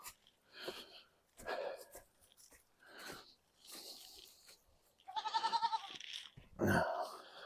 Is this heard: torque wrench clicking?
no